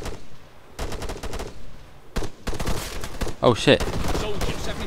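Bursts of automatic gunfire in ARMA 3, with sharp volleys between about one and four seconds and a brief exclamation spoken over the shooting.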